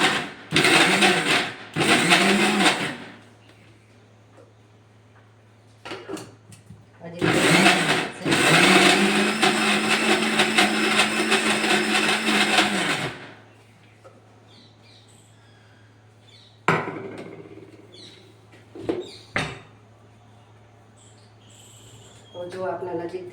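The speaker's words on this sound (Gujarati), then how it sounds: "તો ચાલુ કરીને આપણે દૂધ દળી લેવાનું" A mixer grinder blends milk, gum and sugar into a slurry, two loud whirring bursts of a few seconds each with a steady hum beneath, between stretches of nearby talk.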